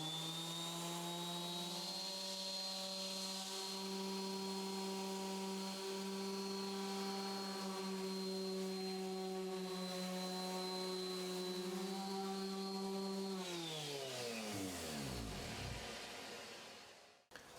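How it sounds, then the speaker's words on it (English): A random orbit sander runs steadily on a wood keyboard case with a loud, even whine, then spins down as it is switched off near the end. "I will use a random orbit on the rest though to save time."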